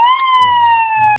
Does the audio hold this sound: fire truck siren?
yes